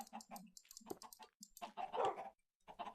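Dog or wolf in the Minecraft video game barking in a few short, quiet yips alongside soft clicking game noises.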